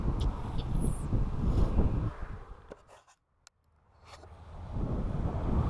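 Strong wind on the open steppe buffets the microphone in loud roaring gusts that drop away to near silence midway before surging back.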